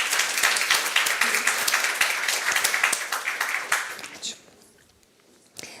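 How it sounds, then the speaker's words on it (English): A masterclass audience claps for a speaker, a brisk round of applause that runs strong for about four seconds before trailing off into quiet, with one last lone clap near the end. "So please give an applause to Ieva."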